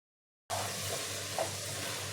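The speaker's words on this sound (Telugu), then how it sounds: "టమాటా కూడా మనకు బాగా ఫ్రై అయింది" Tomatoes sizzling and frying in a pan as the base for a spicy Kakinada-style fish curry, a steady close hiss starting abruptly after a brief silence, with faint stirring knocks.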